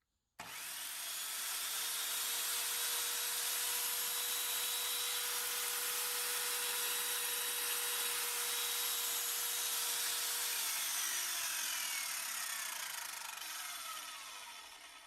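A circular saw spins up at 5000 RPM and runs with a steady high whine for several seconds, then winds down as the blade slows.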